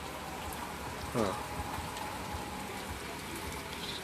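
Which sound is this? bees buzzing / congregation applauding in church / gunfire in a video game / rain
rain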